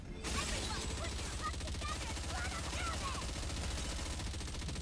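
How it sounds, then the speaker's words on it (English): Gunfire in the video game Nikke, a steady, dense stream of rapid shots at even loudness beneath busy game sound effects, with no talking. "I love the audio sound for the gunfire."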